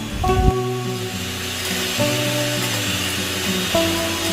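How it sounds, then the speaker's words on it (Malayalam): An electric beater whips a watermelon and milk mixture for ice cream, a close, steady motor whine whose pitch shifts in short steps as the beaters work through the liquid. "നല്ല ക്രീമി ആൻഡ് ഫ്ലഫി ആവുന്ന വരെ നമ്മളിതിനെ ബീറ്റ് ചെയ്തെടുക്കണം"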